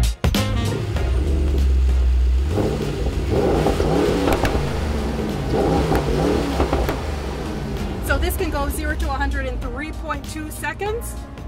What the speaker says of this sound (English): there is no better place to test this vehicle and this engine than on the racetrack in Texas.